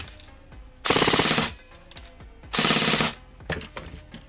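A T238 airsoft gun fitted with a 28k brushless motor fires full auto on an 11.1V battery, two loud close bursts of rapid buzzing shots, each about half a second, separated by quieter mechanical clicks and handling.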